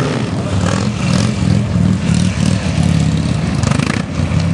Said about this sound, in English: That enables me to take the bike higher and to sustain the wheelie for longer in a short space.